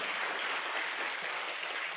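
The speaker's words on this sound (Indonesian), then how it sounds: "silakan kamu tepuk tangan" Brief applause from a seminar audience after a motivational talk, a dense even wash of clapping that holds steady for a couple of seconds, fairly soft and without speech.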